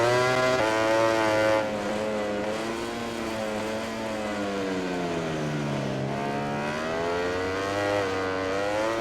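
Ducati GP20 motorcycle racing in MotoGP 20, its engine whining loudly and continuously, with the pitch sagging through a corner and then rising again as the bike accelerates.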